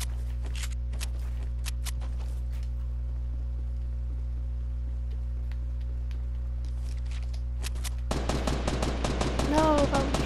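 Gunfire from the video game Fortnite comes as scattered sharp bursts over a steady low game hum, turning into a louder, denser flurry of shots in the final two seconds.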